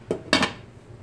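A metal lid set onto a pot of chicken cooking on the stove, giving two quick clanks close together, the second louder, followed by a brief ringing decay.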